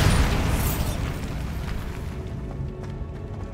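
Bombarda spell explosion in Hogwarts Legacy, a loud broadband blast at the start that decays into a rumbling, crackling tail over a few seconds, heard alone.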